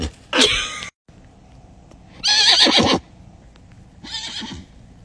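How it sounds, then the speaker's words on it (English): Three high, shrill whinnies from a young horse, separated by short pauses, close and fairly loud against quiet background noise. "Have you ever heard a baby horse whinny?"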